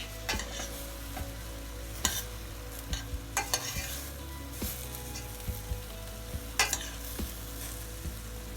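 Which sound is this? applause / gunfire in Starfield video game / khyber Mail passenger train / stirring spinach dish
stirring spinach dish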